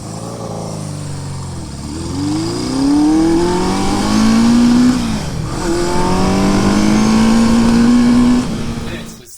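A 1973 Honda CB500 motorcycle engine, with a carburetor fault, fires up and runs, its revs rising and falling in smooth swells before settling into a steady, fairly loud idle.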